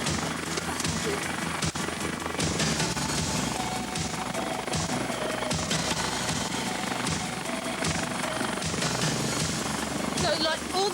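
Helicopter for an air ambulance rescue, a loud continuous rotor and engine roar filling the whole stretch, close by, with people talking over it.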